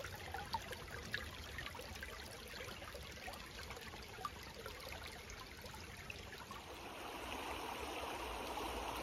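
A small brook flows through Cotwall End Valley in winter, its soft continuous trickle and gurgle faint and steady throughout.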